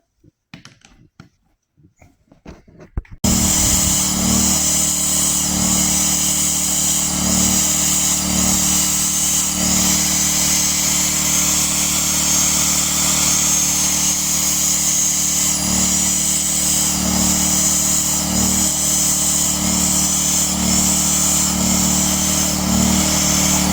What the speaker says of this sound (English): so I drilled the holes in all these logs